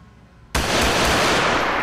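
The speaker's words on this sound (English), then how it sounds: "Shots fired." Gunshots hit a police car in a video game, a sharp loud onset of dense, sustained gunfire noise that stays intense and unbroken after a quiet lead-in.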